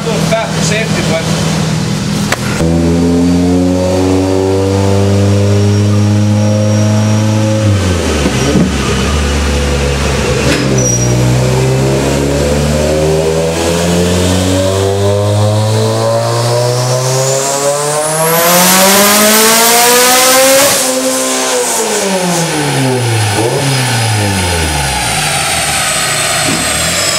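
A tuned Mitsubishi Evo engine roars under hard acceleration at full torque, its pitch climbing through several gear pulls with drops between shifts, loud and close inside the car; people speak briefly over it.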